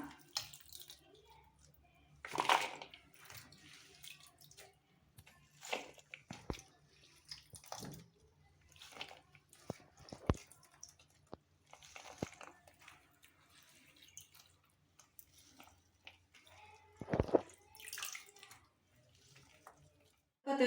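Banana flower being rinsed, water swished and sloshed in a bowl, intermittent splashes and drips with quiet gaps, close by.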